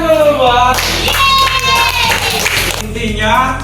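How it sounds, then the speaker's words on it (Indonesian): A class claps hands together at a community learning center in Mentawai during a teaching practice lesson, a dense burst of applause running throughout with voices mixed in. "tepuk tangan dulu buat"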